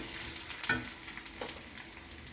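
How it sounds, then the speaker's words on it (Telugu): Garlic, chilies and mustard seeds are tempered in hot oil for dal, producing a soft, steady sizzle with a few faint pops and a brief stirring scrape. "పప్పు తాలింపు పెడుతున్నాను. వెల్లుల్లిపాయ, మిరపకాయలు, ఆవాలు, జీలకర్ర, కొంచెం మినపప్పు వేయాలి."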